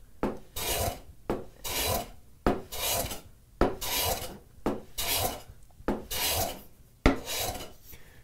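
A hand plane shaves across a board of lumber in a regular series of about seven rasping strokes, each beginning with a sharp attack and ending in a brief pause, heard close and alone.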